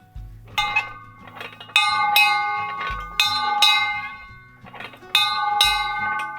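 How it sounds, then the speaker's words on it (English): A handbell rung at a horse shelter, a series of bright clanging strikes in bursts with ringing overtones that decay between strokes, close and clear with no talking. "We gotta go ring the bell."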